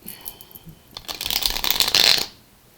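A deck of tarot cards is shuffled by hand, with soft riffling and flicking that builds into a dense, crisp flutter up close before stopping abruptly.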